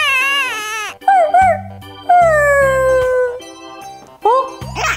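An injured puppy with a hurt leg lets out loud, drawn-out wavering howls and yelps in several bursts, close and dominant, with thumping low sounds between them.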